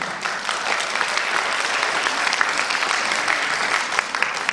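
An audience at the 6th National Smile Kindness Awards ceremony in Daegu applauds an award winner, a dense, sustained round of clapping that holds steady and fairly loud throughout.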